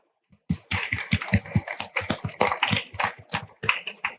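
Audience applause welcoming a panel at the BTC Prague 2025 conference: several near, distinct claps in an uneven rhythm that start abruptly and keep going, fairly loud, with no voices.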